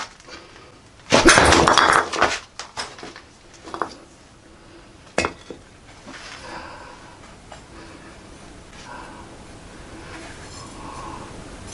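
A thin W2 steel cleaver chops into material, with a loud crunching impact burst near the start followed by a few lighter knocks and taps, then quiet handling noise.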